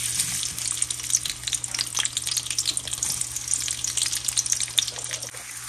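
Onions sizzle with small bay leaves in a hot pan for masoor dal, a steady bright crackle of frying that holds close and continuous throughout, with no voices.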